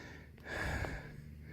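A man breathing heavily, one deep audible breath in and out at close range, while checking a 250cc TaoTao ATV for rust.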